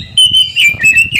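A kacer, or oriental magpie-robin, sings a steady high whistled tone broken by sharper chirps, loud and close, over a soft low rumble.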